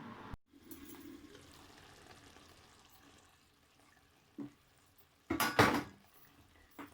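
A metal lid clanks onto a cooking pot over a low flame while potato and eggplant bharta cooks, after a soft stretch of quiet kitchen noise. The lid gives several sharp, close metallic knocks.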